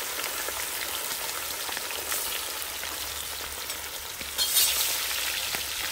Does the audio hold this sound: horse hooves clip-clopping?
no